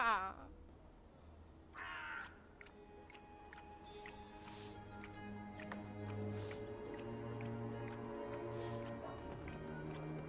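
A crow in the video game Dreamfall Chapters gives a few harsh caws over a soft, sustained musical score with gentle plucked notes.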